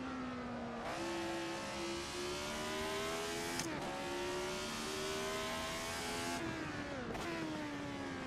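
A racing car in a video game roars at high revs with steady engine pitch that dips sharply at braking points into corners, then climbs again, repeated twice across a continuous loud drone with no talking.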